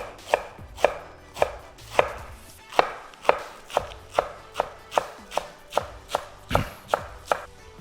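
A knife chops iceberg lettuce into shreds on a cutting board, with steady, evenly spaced crisp thuds, about two per second, close and clear with no talking.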